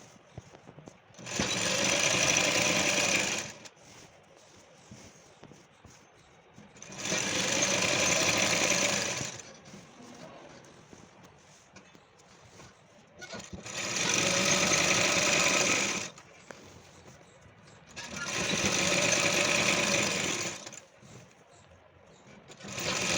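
Sewing machine stitching around the hem of a can-can skirt, four long steady bursts of fast whirring stitching separated by quieter pauses, loud and close.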